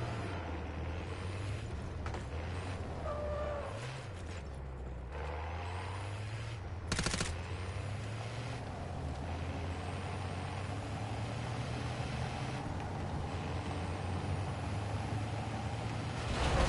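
A vehicle in Call of Duty Warzone idles and rumbles steadily at low pitch, with a sharp hiss like an air brake midway and a constant engine drone throughout, no talking.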